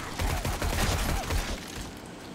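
A rapid, loud volley of gunshots fired in the survival video game 7 Days to Die, many shots crowding together for over a second before tapering off into a fainter, noisy tail.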